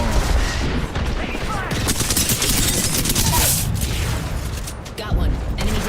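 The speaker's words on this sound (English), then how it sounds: "Box 3, launching missiles." A barrage of Apex Legends missiles launches and explodes in rapid succession, dense crashing booms and impacts over continuous game noise, with voices talking over it.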